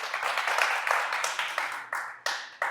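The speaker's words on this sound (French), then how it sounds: "On peut applaudir, les gars" Small-group applause rings out after a martial arts move in an MMA training gym: dense, close clapping that thins toward the end into a few separate, sharper claps.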